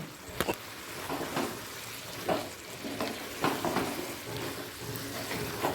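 Boiled potatoes fry in spiced oil for an alu kasha, giving a steady close sizzle broken by repeated louder bursts and stirring scrapes, with no talking.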